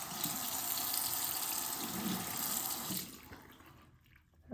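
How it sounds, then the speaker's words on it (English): Hot water pours steadily from a tap into a sink as it fills to dye cross stitch fabric, a loud continuous rush for about three seconds before it is shut off and fades to quiet. "And that is hot water. And I'm just gonna add a little bit more."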